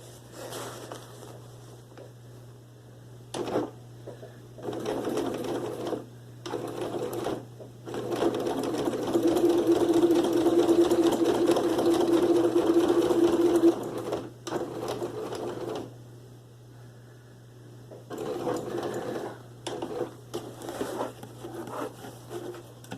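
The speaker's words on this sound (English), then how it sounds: "So I will sew across here." Sewing machine stitching straight across the bottom of a simple fabric bag, running in several bursts of steady whirring with short pauses between, the longest run in the middle, close and clear with no talk.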